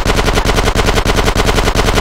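Rapid automatic gunfire from Grand Theft Auto San Andreas: a loud, continuous, evenly spaced burst of shots with no talking.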